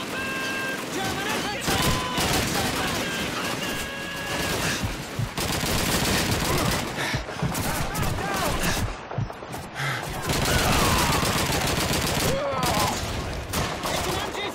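MG-42 machine gun fire in Call of Duty 2, long rapid bursts and scattered rifle shots in a World War II street battle, loud and continuous with shouted voices throughout.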